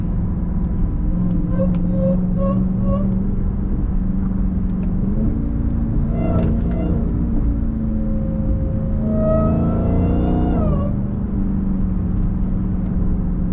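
Dodge Hellcat with a Corsa exhaust in busy traffic, a steady low engine rumble with a rising and falling supercharger whine layered over it, heard from inside the car for the whole stretch.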